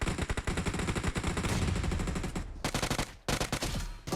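Rapid automatic gunfire from a weapon in PUBG Mobile, dense repeated bursts with brief pauses, loud and close, no talking over it.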